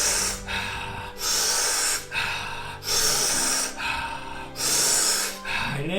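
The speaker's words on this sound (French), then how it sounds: "inspire, relâche, respiration cyclique par la bouche." Rhythmic mouth breathing during a cyclic breathing exercise, with strong hissy breaths repeating roughly every second or so, each rush of air swelling and fading in a steady loop, close and fairly loud with no talking.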